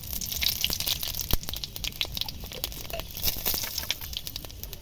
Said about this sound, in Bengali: তেলটা গরম হয়ে গেছে। এবার দেবো শুকনো লঙ্কা, তেজপাতা,